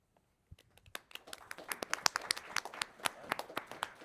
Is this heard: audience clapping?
yes